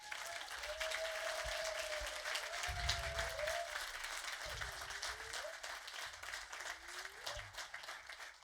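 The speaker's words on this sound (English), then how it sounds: "So please just give them an applause." Applause from a conference audience at the European Ecovillage Gathering 2025 rolls on steadily for several seconds, with a few rising whistle-like tones sliding above the clapping.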